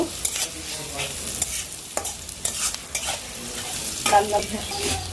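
Onions and spices fry in hot oil, giving a close, steady sizzle broken by frequent scraping stirs of a spoon in the pan; no one speaks.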